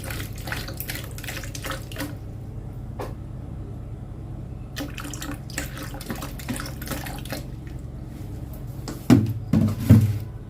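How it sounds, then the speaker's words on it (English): Distilled water poured into a plastic cup for soap making, a steady faint trickle with light splashy flecks and a few louder knocks of the cup near the end, with no talking. "The first thing I'll be pouring into my plastic cup is my water"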